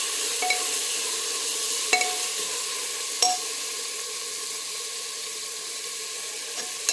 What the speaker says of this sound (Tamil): புதினா கொத்தமல்லி நல்லா வதங்கட்டும்.